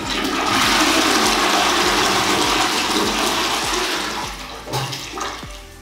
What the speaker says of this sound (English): the truth test now with a quick flush